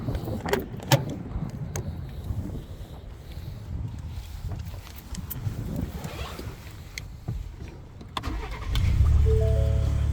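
A 2020 Ford Expedition SUV with 134,000 miles: some clicks and key rattles in the cabin, then the engine cranks and catches near the end and settles into a steady, close low idle.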